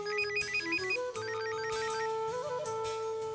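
A phone ringtone plays a repeating electronic melody at night in a Hindi TV drama scene, steady and moderately quiet, with no voices over it.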